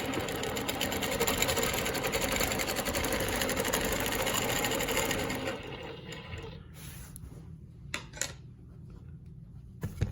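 A longarm quilting machine stitches a Baptist fan pattern with a steady, fast mechanical chatter for about five seconds, then slows and stops, leaving scattered small clicks and handling noises.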